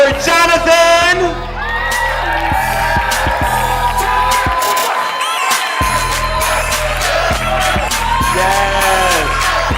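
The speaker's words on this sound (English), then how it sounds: "Big round of applause for Jonathan." A bat mitzvah party crowd clapping, whooping and cheering as a guest is introduced, loud and dense with shouts and whistles, music and voices mixed in throughout.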